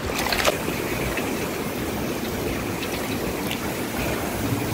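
Hot water poured out from a home still used for distilling liquor makes a steady, continuous rushing splash that holds at an even level throughout.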